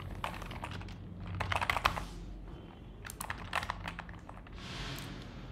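Key clicks from a computer keyboard, typed in short bursts with pauses between them. The sound is quiet and close, over a faint room hiss, with no voice.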